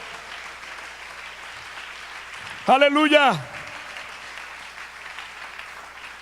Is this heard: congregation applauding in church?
yes